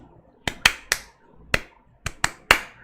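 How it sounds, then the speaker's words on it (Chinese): Seven crisp hand claps from a teacher ring out nearby in a steady rhythmic pattern, some paired close together and others spaced apart, with no voices in between. "老师现在拍手的时候带着一种节奏"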